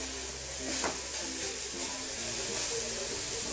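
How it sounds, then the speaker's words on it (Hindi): Grated beetroot sizzles steadily in a hot frying pan while being stirred, a continuous close hiss with light scraping of the spoon through the mix. "ये जो हमने ग्रेडेड चुकंदर है उसे इसके अंदर मिक्स कर देते हैं और इसे चला लेते हैं"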